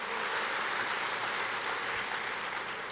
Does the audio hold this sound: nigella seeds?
no